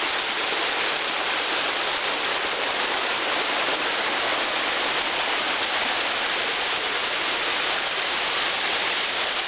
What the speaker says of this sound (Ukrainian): Тут є два каскадики.